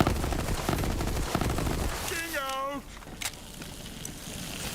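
Gunfire in a first-person shooter game played on Stadia, with rapid crackling bursts over the first two seconds, then a brief rising tonal whine and one sharp isolated shot. A voice talks over the game sounds.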